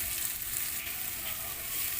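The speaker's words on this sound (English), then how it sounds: "And just saute until our onion gets translucent or golden brown." Onions sauté in a pan for an aloo beef keema, giving off a continuous even hiss of frying. The sizzle stays steady and close for a short stretch, with nothing else heard over it.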